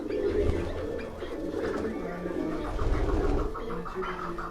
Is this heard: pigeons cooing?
yes